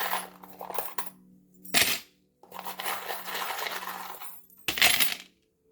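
Small metal charms are tossed and scattered for a divination reading, giving bursts of bright jingling and clattering, close and fairly loud, in several separate throws with short pauses between them.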